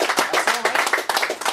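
Audience at a 2018 quiz final applauds the finalists, with brisk, fairly close clapping from a modest crowd in short bursts, a voice faintly audible underneath.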